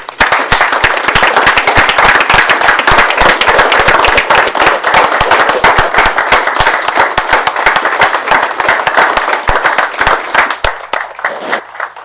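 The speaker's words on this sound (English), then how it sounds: "give a round of applause on behalf of John" Loud, sustained applause fills a county board of commissioners meeting, dense clapping from a roomful of people running steadily for about ten seconds before thinning out at the end.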